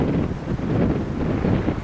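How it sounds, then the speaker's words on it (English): Steady wind buffeting the microphone outdoors beside a 2003 Ford Thunderbird, a dense low rumble that holds for the whole stretch with no talking. "I know it's a little windy"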